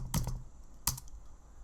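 Two quick clacks of keys on a computer keyboard, close and quiet, about three-quarters of a second apart, with near silence around them.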